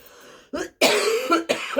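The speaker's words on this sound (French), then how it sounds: "pourquoi je me mets à tousser, là, d'un coup sec encore" Sudden harsh coughs, a short burst and then a longer rasping fit with throat clearing, close and loud, with no talking.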